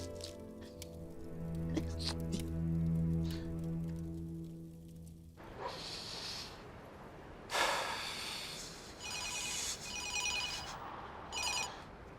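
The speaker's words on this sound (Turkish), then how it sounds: "Ben de telefon açayım Mehmet'e bakayım." An outgoing phone call's ringback tone sounds for about five seconds, then gives way to rustling and shuffling noises with brief bursts of hiss.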